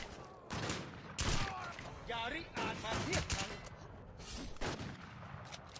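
Bursts of rapid gunfire from the video game Warzone ring out across the clip, loud and repeated, with some people talking over the shooting.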